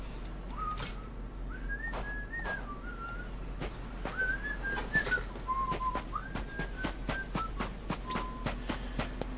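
A person whistles a slow melody of sustained, gliding tones in short phrases, with soft clicks and tapping sounds scattered around it.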